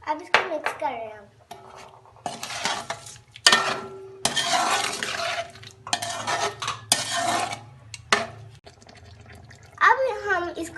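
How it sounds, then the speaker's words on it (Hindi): Chicken ginger curry with ginger, salt, spices and half a cup of water being stirred in a pan, a spoon scraping and clinking against the metal in repeated bursts alongside a low background hum, with no talking. "अब इसको मिक्स कर रहे हैं हम।"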